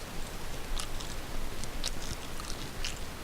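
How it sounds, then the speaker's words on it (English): Someone eats popcorn close to the microphone during a Scratch coding tutorial, with a handful of crisp, irregular crunching bites spread across a steady background hiss and no speech. "sorry if you're gonna hear me obnoxiously chewing popcorn, because I'm eating popcorn during the making of this video"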